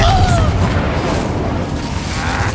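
Confringo fire spell blast in the Hogwarts Legacy video game, a loud booming burst that rolls into a sustained rumble across a couple of seconds, alone without talk.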